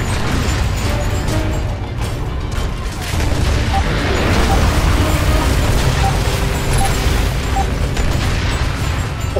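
A dense, booming explosion and rumbling debris in the video game Gears of War 2 during co-op campaign play, loud and sustained with heavy low-end rumble throughout.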